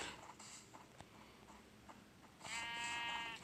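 Faint background noise with soft knocks, then a clear Minecraft sheep bleat near the end, thin and wavering.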